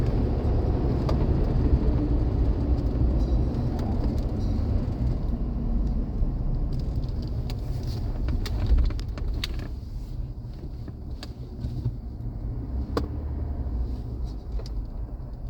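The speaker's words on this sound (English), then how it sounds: "We're gonna rip into this motor and see what she's got." A used car's engine pulls hard and revs during a test drive, a steady loud rumble of motor and road noise running throughout with a few faint rattles on top and no one speaking.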